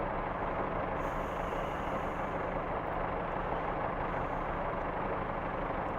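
A Class 143 train braking on the Riviera Line in Train Simulator, heard as a steady, dense rumbling roar of the moving unit with a faint hiss of air brakes near the start.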